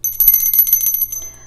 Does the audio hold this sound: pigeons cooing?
no